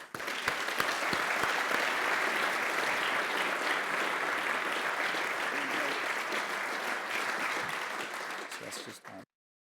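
An audience at an Army leadership seminar applauding to welcome a speaker to the stage, a dense, sustained clapping that holds steady for about nine seconds before cutting off abruptly.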